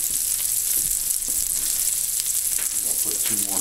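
Two big dabs of butter sizzle and fry in a hot pan on high heat, a steady loud crackling hiss with occasional pops, no talk.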